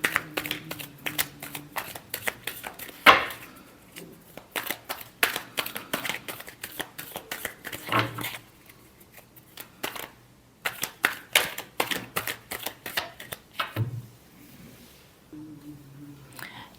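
Tarot cards are shuffled by hand in soft, quick riffling bursts, close and fairly quiet, with brief pauses between rounds.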